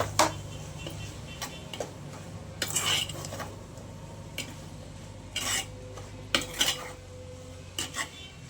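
A spoon stirs salt into a broad bean curry in a metal pan, making scattered clinks and scrapes against the pan. The sounds come close and fairly soft, with a faint sizzle underneath.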